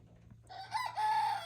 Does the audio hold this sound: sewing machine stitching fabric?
no